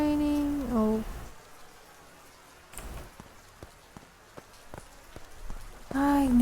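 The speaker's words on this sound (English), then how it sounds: "It's raining." Rain falls in the farming game Deiland as a soft patter with scattered distinct drops, framed by a melodic chime at the start and end; a voice speaks briefly.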